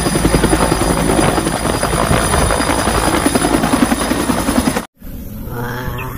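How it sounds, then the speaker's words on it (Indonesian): A toy army helicopter whirs loudly and steadily with a fast, chopping rotor buzz close by, then cuts out abruptly near the end, leaving a softer residual hum. "Wow, helikopter tentara."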